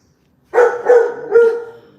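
Three loud barks from dogs in a quiet room, each bark sharp at onset and trailing off, coming in quick succession over about a second and a half.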